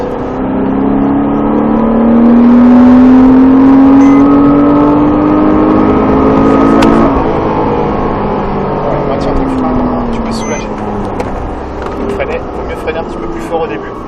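Porsche Cayman S on a race track at Trappes, France, engine note climbing steadily as it accelerates, a loud rising drone with an instructor's voice talking over it.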